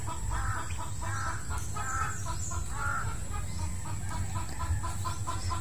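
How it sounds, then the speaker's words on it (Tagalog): A chicken on a farm with goats and turkeys cackles repeatedly in alarm, a series of loud, close, rhythmic clucks over constant background noise. "dahil ng pumuputak ang manok"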